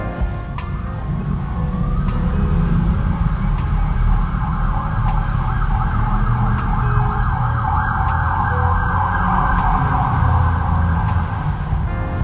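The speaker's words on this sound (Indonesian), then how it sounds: "sebentar ada ambulan lewat" An ambulance siren wails continuously over steady road traffic noise, loud and close throughout, with no talking.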